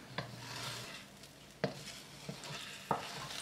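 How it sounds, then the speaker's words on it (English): Eggs scrambling in a pan for vegetarian pad thai, with a soft steady sizzle broken by three sharp scraping strokes of a spatula spaced about a second apart. "Add the eggs, and then let them scramble."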